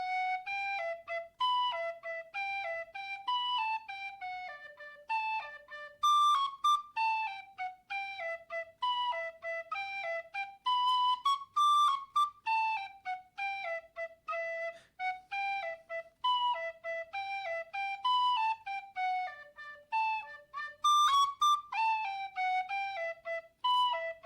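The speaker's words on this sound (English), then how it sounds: "So here on the whistle, part A. It's a D whistle." A D tin whistle plays the Swallowtail Jig alone, bright ornamented notes in a quick bouncing rhythm with brief breath pauses between phrases.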